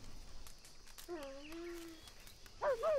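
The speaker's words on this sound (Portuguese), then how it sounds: "Não chore, cachorrinho." A dog whimpers in Red Dead Online, one long falling whine followed by a couple of short higher whimpers, clear over quiet game ambience.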